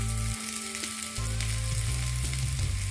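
Chopped onions sizzle steadily in a hot pan after salt is added, a dense continuous frying hiss close up with faint stirring and no voices.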